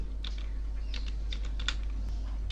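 Typing on a computer keyboard while entering an Excel formula: light, irregular clusters of key clicks over a steady low electrical hum, close up, with no speech.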